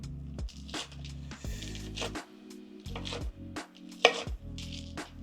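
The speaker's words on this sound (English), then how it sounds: "Just chopping, chopping, chopping." A knife chops kale rapidly on a cutting board, bursts of quick close taps with short pauses in between, with faint background hum.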